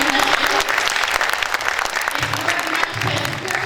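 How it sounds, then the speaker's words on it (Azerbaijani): An audience at a book presentation in Sumqayit applauds steadily, a dense wash of many hands clapping throughout that eases slightly toward the end. "Bir alqışlayan Esmira Günəşi"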